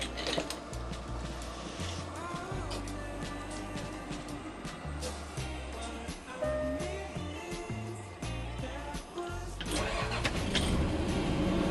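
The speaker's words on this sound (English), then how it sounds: "it's time to fire up that 450 Cummins" A motorhome's Cummins 450 diesel engine cranks and fires, the starter chugging in uneven pulses before the engine catches and settles into a deep, loud rumbling idle.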